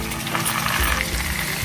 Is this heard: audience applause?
no